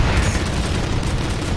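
Continuous heavy booming from rocket explosions in a video game tank battle, a dense, loud, rumbling barrage with no clear gaps between blasts.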